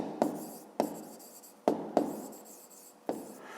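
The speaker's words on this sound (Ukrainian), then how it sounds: "Пишемо рівність." A pen writes an equation by hand for a fifth-grade math exercise, making five crisp taps as it touches the paper, each followed by a brief fading scratch, close and quiet with no voices.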